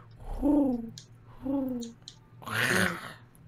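A voice imitates a pigeon cooing during a tabletop Dungeons & Dragons session, giving three soft, throaty coo phrases in a row, each rising then falling, close and fairly quiet.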